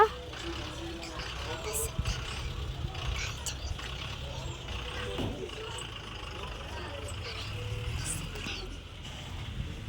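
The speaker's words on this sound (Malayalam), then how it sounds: "ബസ് വന്നിട്ടുണ്ട് കേട്ടോ" A bus pulls up amid steady road traffic rumble and engine noise outdoors, with people talking throughout over the continuous vehicle sound.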